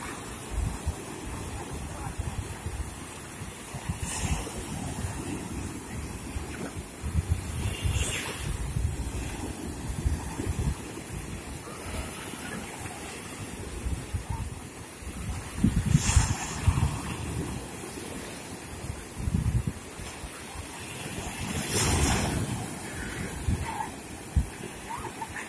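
Stormy sea at a beach at Karolino-Bugaz, with waves surging and breaking in repeated swells under constant wind buffeting the microphone, a broad roaring wash that rises and falls over about twenty-five seconds with no talking.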